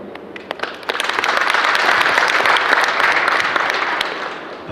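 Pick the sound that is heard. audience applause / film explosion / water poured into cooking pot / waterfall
audience applause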